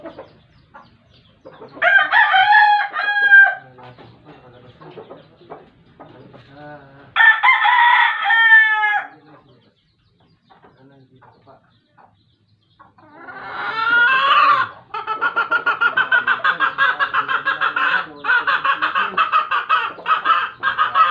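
Chickens and chicks clucking and crowing in bursts of loud nearby calls with quiet gaps, ending in a long run of repeated clucks; faint talk in the background.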